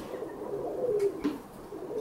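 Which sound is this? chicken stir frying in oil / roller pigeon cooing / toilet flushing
roller pigeon cooing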